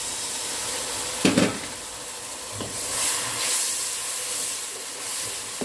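Lemon juice hitting chicken frying in a pan over a lowered flame, a steady hiss and sizzle with a brief sharper splash burst near the start, then settling into continuous frying noise.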